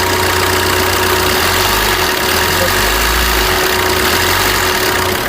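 A 2014 Maruti Ertiga VDi diesel idles close by, a loud, steady low rumble with a slight rhythmic pulsing and faint knock, running continuously without voices.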